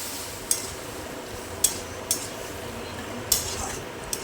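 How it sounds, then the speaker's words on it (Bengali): A spoon knocks against a cooking pot of simmering lentil dal, four or five light clinks spaced irregularly over a soft steady hiss, with no talking. "একটু নাড়িয়ে চাড়িয়ে দেবো।"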